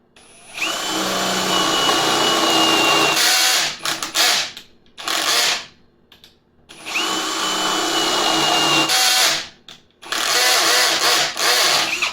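A power drill with a 1/2 inch bit whirs loudly in long bursts, broken by stuttering, ratcheting stops as the clutch slips, and brief pauses between runs.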